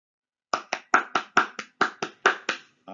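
One person claps hands alone, about ten sharp, close claps in a loose, slightly uneven rhythm over a couple of seconds, with silence before the first clap.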